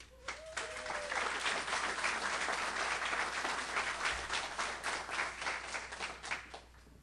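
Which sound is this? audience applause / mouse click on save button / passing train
audience applause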